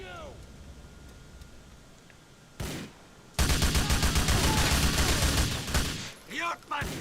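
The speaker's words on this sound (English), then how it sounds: "I'm going to send in a couple of rockets just to heat things up a bit." Rockets fired during a helicopter mission in Grand Theft Auto IV: a quiet stretch, a short burst, then a loud sustained roar of blasts and explosions with sharp cracks near the end, with a voice talking over the game audio.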